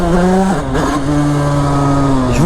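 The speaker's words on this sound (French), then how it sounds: "Là, je vais tenter full accélération" A motorcycle at full throttle, a loud close engine roar that climbs in pitch, dips briefly at a gear change, then rises again and holds steady before easing.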